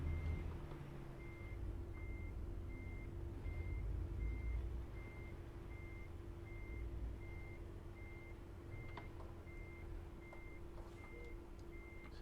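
Truck in American Truck Simulator backing up with a steady, evenly spaced reversing beep over a low idling engine rumble, with a brief air-brake hiss partway through.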